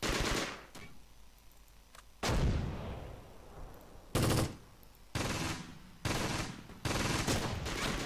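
Bursts of gunfire and artillery-like blasts from the Close Combat: Gateway to Caen war game, several loud volleys separated by short pauses with rumbling decay between them.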